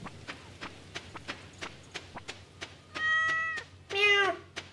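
A cat meows twice in the Stardew Valley farming game, a short mew then a longer wavering one, following a run of steady clip-clop footstep taps.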